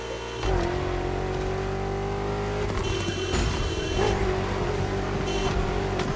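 BMW M car engine driving in a Need for Speed racing game, a loud steady drone with the pitch climbing slightly as it accelerates, with occasional shifts and road noise, no voices.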